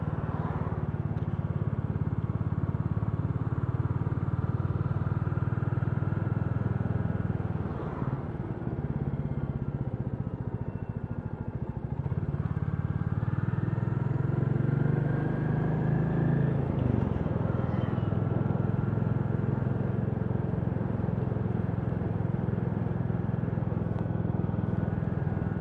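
A Royal Enfield Classic 350 motorcycle engine heard while riding, a steady, loud low drone with a little rise and fall in pitch, constant throughout with wind-like rumble and no talking.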